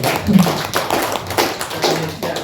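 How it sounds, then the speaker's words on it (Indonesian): Small classroom group claps in sparse, uneven bursts, close and distinct, with a brief low hum or voice near the start. "Tepuk tangan untuk kita semua."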